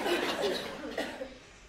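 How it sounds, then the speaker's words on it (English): A single person coughs onto a tissue during a breathing-management demonstration for COPD, a short, soft, breathy burst that fades out quickly, heard alone and close. "If I was to cough on the tissue"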